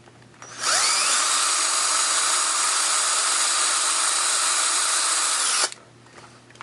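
A power drill set to slow speed whines steadily for about five seconds as it bores out the small rivets holding a die-cast model car's body to its plastic base, starting and stopping abruptly.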